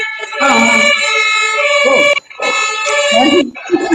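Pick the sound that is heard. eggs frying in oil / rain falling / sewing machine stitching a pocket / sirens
sirens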